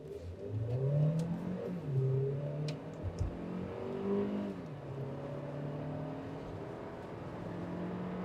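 A Hyundai Creta N Line engine revs up through several rising pitches as it accelerates, shifting gears and climbing again, fairly loud inside the cabin.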